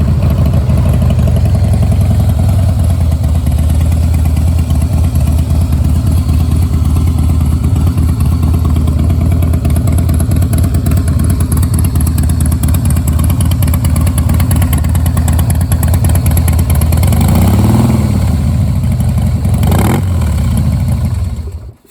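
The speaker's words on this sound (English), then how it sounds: "Let's listen to the exhaust." A 2016 Harley-Davidson CVO Pro Street Breakout engine idles steadily with a deep, loud exhaust rumble, nearby and continuous, with a couple of brief throttle blips near the end.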